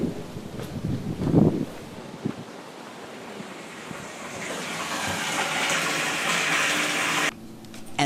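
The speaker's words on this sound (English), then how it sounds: "I'm going to pump the water out and into a big container outside" Water pumped out of a home aquarium into a large container, a steady rushing, hissing wash that slowly swells in strength over several seconds, with a few knocks early on, then cuts off abruptly near the end.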